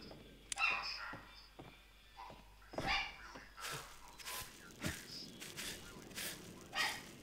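Dog barking from a horror video game, sharp repeated barks in irregular bursts at moderate distance, with faint background game sounds between them.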